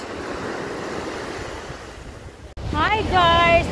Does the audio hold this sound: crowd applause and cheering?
no